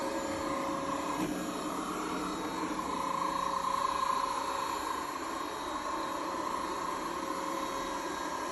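A robot vacuum cleaner runs indoors, a steady whirring hum with a broad hiss that holds at an even level throughout, near and continuous, with no voices.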